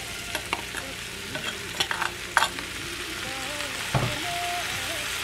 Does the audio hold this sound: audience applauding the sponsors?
no